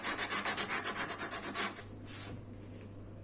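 Quick rhythmic sanding strokes rub across a small neck knife made from a saw blade, close and steady for nearly two seconds, then fading to a faint, softer scuff.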